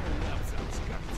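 A sniper rifle fires in the shooter game Sniper: Ghost Warrior 2, a brief booming shot with a rumbling low tail heard close and loud.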